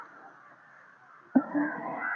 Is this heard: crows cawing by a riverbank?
yes